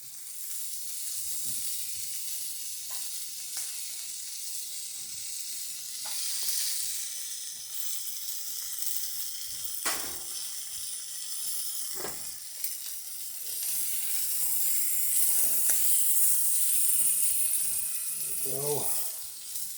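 Beer-braised Italian sausages sear in a hot pan with a steady bright hiss and crackle, growing louder near the end, with occasional scrapes and clinks of cookware and some talk nearby.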